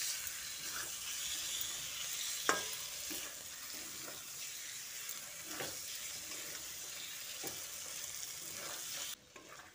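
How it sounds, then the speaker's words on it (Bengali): Pre-fried chicken is stirred into sizzling masala in a pan, with a steady frying hiss and occasional scrapes and clacks of the spatula, no voices. "চিকেনটা দিয়ে মশলার সঙ্গে খুব ভালো করে মিশিয়ে নিচ্ছি"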